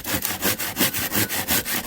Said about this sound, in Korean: 톱으로 조금 더 잘라 놓도록 하겠습니다.